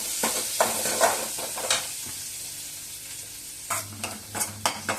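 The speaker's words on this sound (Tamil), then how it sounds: "ஒரு 1/2 வெங்காயம் நல்லா வதக்கிக்கலாம்" Half an onion sautés in a pan with crushed garlic, a close, bright sizzle broken by several quick spatula stirs and scrapes.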